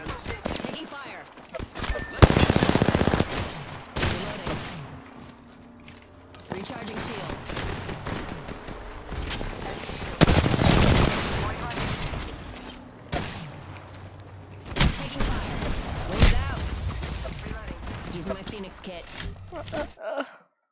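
Automatic weapon fire in a shooter game, repeated loud bursts of rapid shots separated by short lulls, with a voice speaking at times between the volleys.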